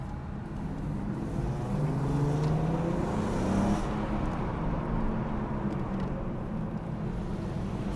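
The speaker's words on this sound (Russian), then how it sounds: "Нажимаю газ, тачка тянет вообще без проблем." An Audi A4 B5 quattro with a 3.2-litre VR6 engine pulls steadily under acceleration, a continuous rising drone heard from inside the car, with no talk over it.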